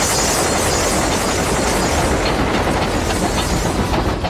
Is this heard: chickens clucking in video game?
no